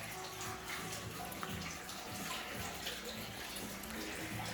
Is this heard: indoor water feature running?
yes